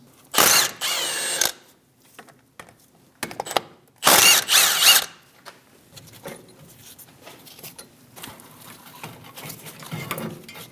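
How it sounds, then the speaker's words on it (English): Ratchet with a T55 Torx bit loosening the rear brake caliper pin bolts on a 2001-2006 Chevrolet Silverado 2500 HD, heard as two loud bursts of rapid clicking separated by shorter clicks and quieter handling noise. "Using a T55 bit, remove the caliper pin bolts."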